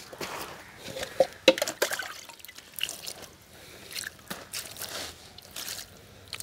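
Water scooped and splashed by hand over a sack laid out for grass cultivation, heard as a run of close, irregular wet splatters and drips with brief pauses between.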